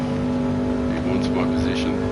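An Audi race car in a racing video game lapping the Nürburgring drones with a steady engine hum, while a louder, near voice talks over it throughout.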